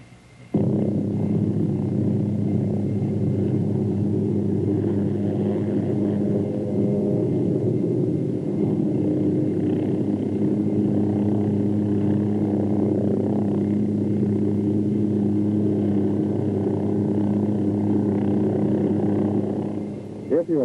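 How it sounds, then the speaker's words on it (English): A Hughes OH-6 helicopter pivots around its tail rotor, giving a steady, loud, continuous low turbine and rotor drone that holds evenly throughout and drops off briefly at the end. "Next, you pivot the helicopter around the tail rotor."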